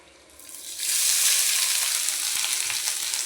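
Grated coconut frying in ghee with almonds and cashews, a steady broadband sizzle that swells loudly after a quieter start and holds evenly close by, with no talk.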